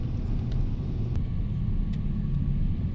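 A Kencana shuttle car on a Jakarta road turning in front of Mall Citraland, heard from inside as a steady low engine and road rumble, with a few faint clicks.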